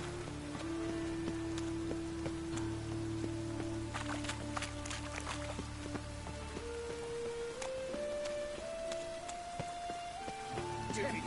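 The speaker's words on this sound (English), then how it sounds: "And it's raining again." Steady rain in The Witcher 3 patters across a surface throughout, with a low drone and occasional tones running beneath it.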